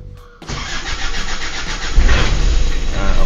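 Isuzu Panther 2.3 diesel engine cranking and firing up after glow plug preheat, a sharp catch into a loud steady clattering idle that grows rougher and heavier partway through, close and alone without talk.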